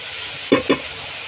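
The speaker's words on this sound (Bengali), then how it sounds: "লাউ আর আলু কষিয়ে নিচ্ছি।" Bottle gourd and potato sautéing with garlic and ginger paste and ground spices, two quick close scrapes of a spatula over a steady hiss of frying.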